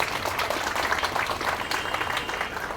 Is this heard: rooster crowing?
no